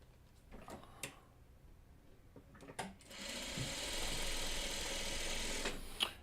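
A home sewing machine chain stitching a quilt block runs in a sustained steady whir for a couple of seconds after a few short clicks and handling knocks, fairly close.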